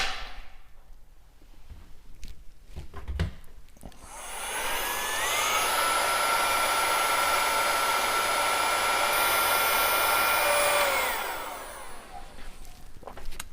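A heat gun blows on heat shrink tubing over boat switch panel cables. The strong, steady roar of hot air runs for about seven seconds between quieter handling noises, with no speech.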